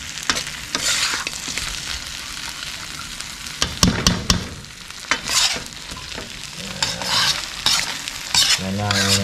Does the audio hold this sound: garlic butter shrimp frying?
yes